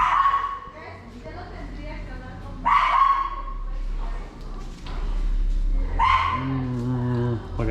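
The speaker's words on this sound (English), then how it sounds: "We got CECE barking like crazy." A dog barks in a few sharp bursts indoors, spaced a few seconds apart, with people talking throughout.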